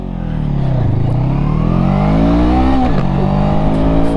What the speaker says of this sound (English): I'm just going to see what the Honda Rebel 500 can do 0-60